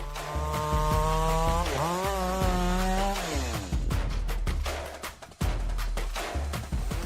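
A chainsaw with a 36-inch Tsumura bar and Stihl chain revs up and down with rising and falling engine pitch, then bites into logs with choppy, uneven cutting bursts, loud and close.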